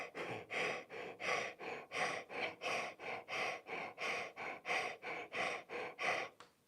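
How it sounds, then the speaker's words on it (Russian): A person breathes forcefully into a cupped hand held at the mouth as a breathing exercise, giving about fourteen steady rhythmic in-and-out huffs, close and muffled, with no talking. "прикладывайте руку к рту и начинаете дышать вот так вот в руку"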